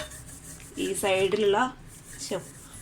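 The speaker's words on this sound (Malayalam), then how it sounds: "ഇത് ഞാൻ 2 പാത്രവും നന്നായിട്ട് ബ്രഷ് വെച്ച് ഉരച്ചു കൊടുത്തിട്ടുണ്ട്." Brush scrubbing a cooking pot, two short rasping strokes close by, the first longer and louder, between quiet pauses.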